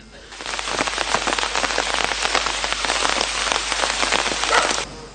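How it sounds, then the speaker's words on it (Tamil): Heavy, continuous rain pouring down in Mullaitivu district, a dense, loud roar of drops hitting surfaces throughout, with no voices. "தொடர்ச்சியாக பெய்த கடும் மழை காரணமாக முல்லைத்தீவு மாவட்டத்தின் வயல் நிலங்கள் மற்றும் தாழ்நில பகுதிகள் நீரில் மூழ்கியுள்ளன."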